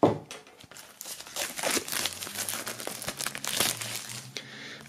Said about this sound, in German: bevor wir es öffnen können, natürlich aus dem Plastik befreien